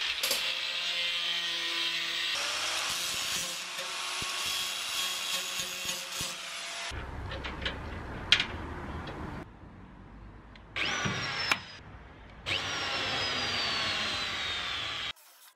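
Angle grinder with a cutting disc working on a metal hinge for a Citroën 2CV hatch, a loud close whining cut in bursts, stopping and restarting with shifting pitch and a few knocks between cuts.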